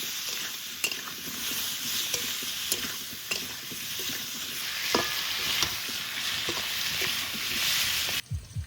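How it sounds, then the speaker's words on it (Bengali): Potatoes fry in hot oil with salt, turmeric and slit green chillies, a dense continuous sizzle broken by repeated stirring scrapes of a spatula against the pan, close and fairly loud, ending with a few sharp knocks. "আলু ভালো করে ভেজে নিয়েছি"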